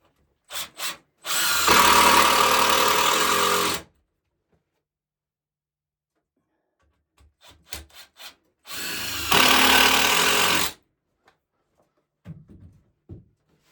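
Power drill driving 3-inch screws into wood while building a small deck-style chicken coop, heard as two long whirring bursts of a few seconds each, close and loud, with short taps and knocks between them.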